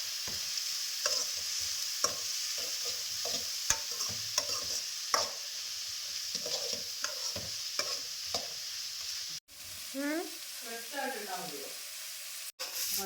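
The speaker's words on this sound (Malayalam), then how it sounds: "ഇഞ്ചിയും വെളുത്തുള്ളിയും കൂടെ എന്തുകൂടെ ഇട്ട് കൊടുത്തേക്കാവേ പിന്നെ ഒന്നിച്ചങ്ങ് വഴണ്ടോളുമല്ലോ" Ginger and garlic sizzle in a pan for tuna pasta, a soft continuous frying hiss broken by repeated scraping stirs, with a person speaking near the end.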